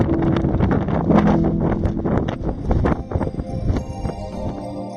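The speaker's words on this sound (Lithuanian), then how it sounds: "Škiuko padavė vėjo šiandien" Strong wind on the Camino de Santiago pilgrim trail, sustained gusty blowing with rustling and buffeting bursts close to the microphone, no speech.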